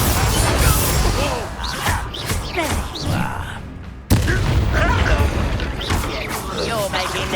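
A Confringo blasting spell in Hogwarts Legacy bursts with a sudden loud explosive crack amid chaotic combat noise and battle voices, followed by continuing rumbling clatter.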